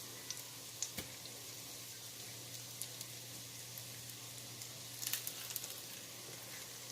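Salmon patties frying in a pan as they are flipped: a faint, steady sizzling hiss with a few sharp spatula clicks and a brief flurry of scraping near the end.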